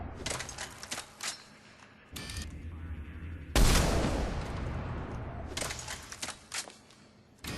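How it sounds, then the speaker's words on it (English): Widow sniper rifle in Mass Effect 3 fired through the scope: one loud, sharp shot with a long decaying tail, set among quieter clicking mechanical game sounds before and after. "Let's try shooting with the scope."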